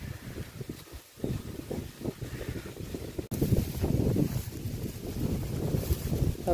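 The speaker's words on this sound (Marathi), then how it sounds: "आपण मॅन्युअली चालू केले मोटर" A manually switched-on electric water pump motor runs steadily at close range, a continuous broadband hum with a brief dip and a sharp click near the middle, then a slightly louder, even drone continuing to the end.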